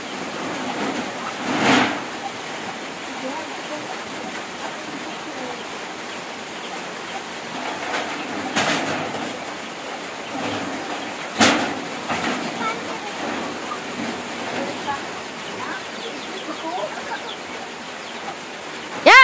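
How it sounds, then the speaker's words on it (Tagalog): Steady hiss of rain falling on surfaces, with a few louder bursts and faint talking in the background. "Nag-ulan na."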